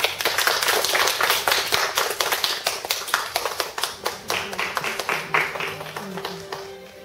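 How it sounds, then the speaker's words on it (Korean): Audience members at a lecture clap to welcome a photographer and author onto the stage. The claps are distinct and fairly sparse, with a rhythmic, uneven patter that thins out toward the end. "큰 박수로 맞아주세요"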